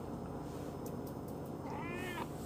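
A cat gives a short, nasal meow near the end of a faint, steady background hiss, close and alone.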